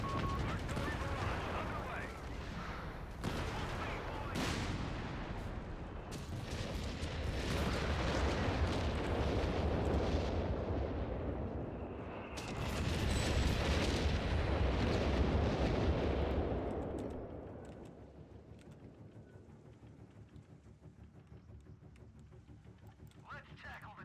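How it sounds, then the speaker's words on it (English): Heavy naval bombardment pounds a World War II-style video game battlefield, a dense roar of artillery blasts and gunfire rolling continuously for most of the stretch before easing into a quieter rumble, with voices shouting under the barrage. "Naval bombardment."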